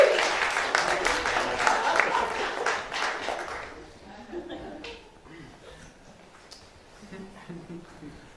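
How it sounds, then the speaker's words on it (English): Wedding guests applaud in a loud burst of clapping that lasts a few seconds, then fades to scattered claps and quiet murmuring. "Give me a round of applause"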